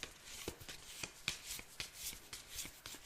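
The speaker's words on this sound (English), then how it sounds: "Yeah, I will just shuffle them." Playing cards are shuffled in a quiet close-up setting, giving soft papery riffles and crisp taps in irregular bursts, faint but clear with no talking.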